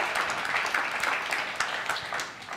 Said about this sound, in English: Give this guy a round of applause.